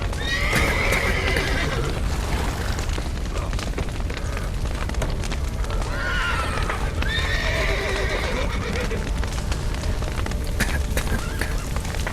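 Horses whinny loudly several times in the video game The Witcher 3: Wild Hunt, amid a dense, rumbling din with clip-clopping hooves and crashing noise throughout.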